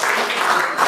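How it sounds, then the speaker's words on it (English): A worship congregation claps hands together in a steady, dense wash of applause that stays close and fairly loud throughout the short moment, with no voices standing out. "Come on, clap those hands together for Him."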